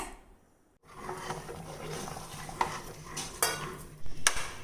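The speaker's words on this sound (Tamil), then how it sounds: "நான் இந்த பேனில் வச்சு கிளறிட்டு இருக்கேங்க" Thick onion vadagam dough is worked in a pan, opening after a brief quiet into continuous close scraping and pasty stirring, with a few sharper clinks of utensil against metal.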